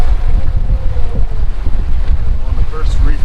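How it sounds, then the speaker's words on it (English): Strong wind roars across the microphone on a sailboat under a reefed headsail in gusty, squally sea conditions, a loud, constant rushing blast with a faint voice underneath. "Not the best, beautiful, sunny day, but lots of wind."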